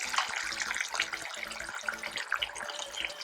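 Water poured into a mixer jar of coconut for grinding into paste for a white potato kurma, a steady splashing trickle close by with no talk.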